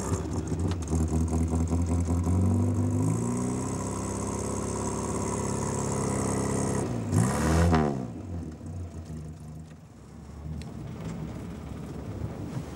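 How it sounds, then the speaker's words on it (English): A Morris 1000 commercial vehicle engine idles and revs with a steady low rumble. A sharp rising sweep near the middle marks a firm rev, then the engine settles back to a quieter, uneven running note. "it's nice to hear an engine start up for a change"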